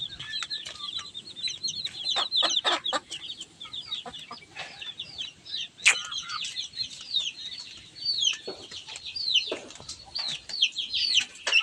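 Backyard hens and chicks cluck and peep continuously, with busy high chirping from the chicks over softer clucks and occasional louder calls, close by and with no talk.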